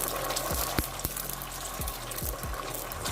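Tomato paste and garlic-ginger paste fry in a pan for daal, giving a steady, moderate sizzle broken by several sharp spoon scrapes and taps as the mixture is stirred.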